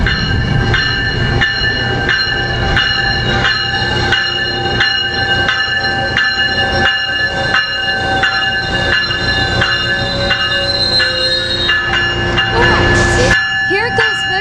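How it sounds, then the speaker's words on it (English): A northbound Metrolink commuter train, number 665, rolls loudly and close through a quiet zone at San Juan Capistrano with no horn sounded. A steady rhythmic clatter of wheels on rail joints is heard under sustained tonal squealing. "It's northbound Metrolink, number 665. Here it comes."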